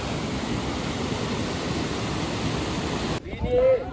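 Waterfall at Nelliyampathy roars as a loud, steady wash of falling water, then cuts off abruptly near the end.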